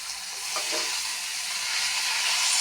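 A steady, loud sizzle of drumstick pulp curry with prawns frying in a pan while being stirred, continuous frying hiss throughout with a brief stirring scrape near the start.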